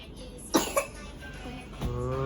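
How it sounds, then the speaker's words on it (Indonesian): A small child coughs indoors, two quick close coughs followed by a short vocal sound, with faint room noise behind. "Batuk."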